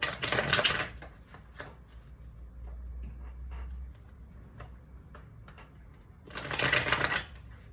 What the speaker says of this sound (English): I'm just gonna shuffle one more time.